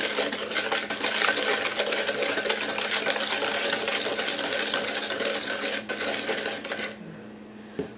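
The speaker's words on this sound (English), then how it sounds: "I'm going to whisk in 3 tablespoons of melted butter." Melted butter is whisked into apple cider doughnut batter, a steady rapid scraping and rattling of a whisk against the bowl that runs continuously for about seven seconds, then stops.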